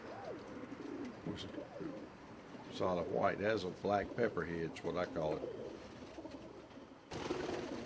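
Figurita pigeons coo softly in a loft, several throaty rolling coos behind someone talking nearby, with a brief rustle near the end.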